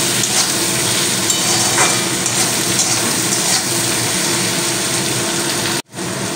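Tomatoes with salt fry in a pan, giving a steady, broad sizzle that hisses on without a break at close range. It cuts out abruptly for a moment near the end, then resumes.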